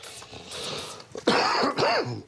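A person coughs and clears their throat a few times, harsh raspy bursts close by, the second fit louder and wheezier.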